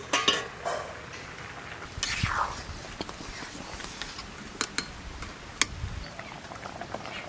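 The lid comes off a cooking pot of khuder bhaat, a broken-rice dish simmering with vegetables, giving a few close metallic clinks and scrapes over a soft, steady kitchen background.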